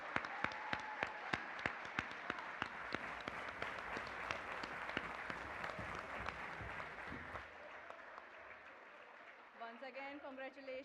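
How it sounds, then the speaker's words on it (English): Audience at a national robotics competition applauding in a large hall, many hands clapping steadily with a few sharp claps standing out, then the applause thins and fades as a voice begins. "Let's have a huge round of applause and extend all our best wishes to them"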